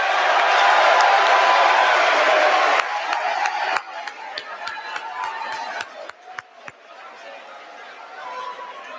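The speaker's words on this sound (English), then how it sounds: "Let's give them a round of applause." Broadband crowd noise from a USMA Class of 2020 Branch Night gathering, dense and loud for the first three seconds, then thinning into scattered sharp claps and murmuring chatter that fade toward the end.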